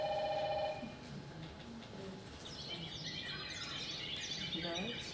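Recorded birds chirp and trill in quick bursts after a short ringing tone, the calls bright and busy against a faint hiss.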